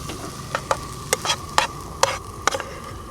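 Food sautés in a pan on a camping trip, with a steady close sizzle and sharp spatula clicks against the pan about twice a second, no voices.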